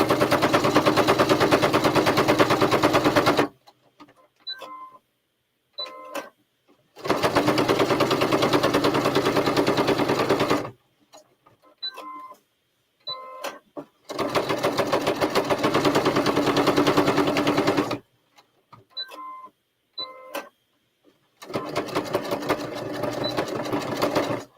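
Sewing machine stitching through fabric and sponge, running in four long loud bursts of rapid needle clatter separated by quiet pauses with small clicks as the work is turned.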